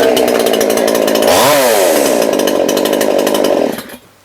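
A petrol chainsaw fires up and runs loud and close, its engine buzzing steadily with one rising and falling rev in the middle before it cuts off near the end.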